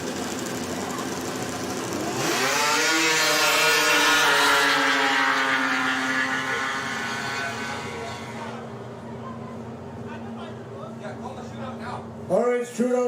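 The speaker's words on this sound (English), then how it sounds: "Engines are running." Snowmobile engines run at a snow drag race in Lake St Martin First Nation, giving a loud, rising high-pitched revving drone that swells and then settles into a steady idle. Voices and crowd noise come through underneath.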